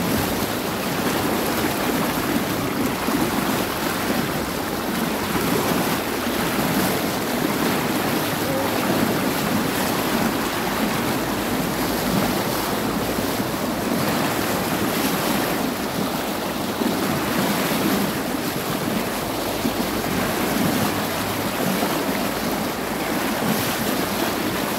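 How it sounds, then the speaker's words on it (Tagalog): A strong river current rushes in a steady, unbroken roar of churning water with wind buffeting the microphone, loud and close throughout, with no voices over it. "Grabe lang ang agos dito."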